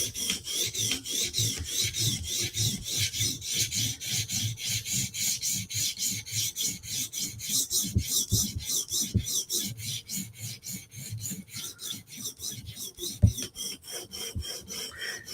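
Rhythmic, even strokes of a file or stone rasp across a knife blade to raise a burr on the back side, close and steady with many regular passes and a sharper scrape near the end.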